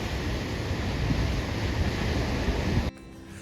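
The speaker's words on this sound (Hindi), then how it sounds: "इधर डैम में होता है ना वैसा शोर वैसा पानी" Loud, continuous roar of rushing water at a dam in Niti Valley fills the clip with wind buffeting the microphone, then cuts off abruptly near the end.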